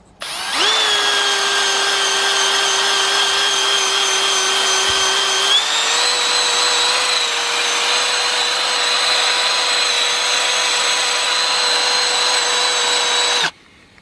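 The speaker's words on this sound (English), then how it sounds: "small wire brush wheel that actually has an attachment for a drill" Power drill spinning a small wire brush wheel attachment to clean rear brake parts on a 2006 Chevrolet Impala, a loud sustained high whine that steps up in pitch midway and runs unbroken for about thirteen seconds before stopping.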